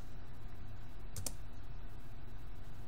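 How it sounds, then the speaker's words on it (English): Computer keyboard typing a terminal command on Slackware Linux, one brief burst of keystroke clicks in the middle against a steady background hum, with no voice. "Now we're going to type in chmod"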